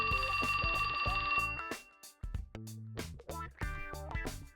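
A mobile phone rings with an incoming call, its bright repeating electronic trill sounding close and clear for about a second and a half before stopping. Music and other game sounds follow.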